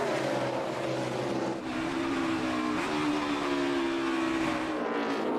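NASCAR Cup Series stock cars race uphill, their engines a loud continuous roar with shifting drones as several cars run close together. The racing noise fills the clip with no break.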